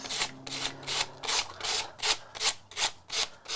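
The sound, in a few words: sanding a craft surface by hand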